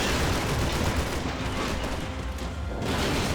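Continuous dense gunfire from the video game Max Payne 3: loud, close bursts of shots blending into an unbroken barrage across the whole moment, with no talking.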